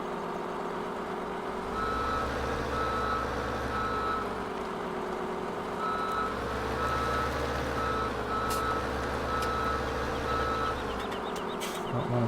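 Truck reversing beeper in Farming Simulator 17, a steady repeating electronic beep over a continuous engine drone, loud and unbroken, with no talk.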